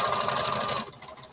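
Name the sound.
sewing machine stitching a bandana T-shirt dress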